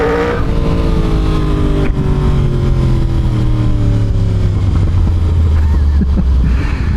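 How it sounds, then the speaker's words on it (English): Yamaha R1 sport motorcycle engine winding down on deceleration, steady falling harmonic drone with low exhaust rumble throughout, loud and close, with no talking. "Little gurgles on decel are nice."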